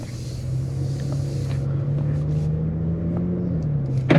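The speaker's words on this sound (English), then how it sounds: "right now I'm just getting to enjoy the engine sound, the shifts, and the exhaust" Audi S4 cruising in commuter traffic on the way into New York City, a steady low engine and exhaust drone with a slight rise and drop near the end and faint road rumble, no talking.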